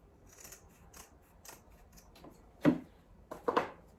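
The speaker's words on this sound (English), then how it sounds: "then cut that ribbon to length" Scissors snip ribbon to length for a Christmas ornament craft: a run of soft, evenly spaced light snips, then two louder, sharper closing cuts near the end, close up with no talking.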